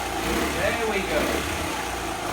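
Original Honda C70 motorcycle engine running at a steady idle, a low continuous putter with people talking over it.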